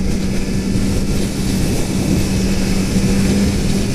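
A 2018 Kawasaki Z900RS motorcycle engine pulls hard near 4,500 rpm while riding, a loud, steady, continuous roar mixed with rushing wind and no pauses.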